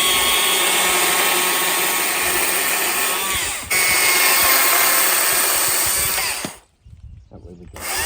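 A chainsaw cuts into a wooden stick in a workshop, running loud and close with a steady high whine that shifts in pitch, then cuts off abruptly near the end.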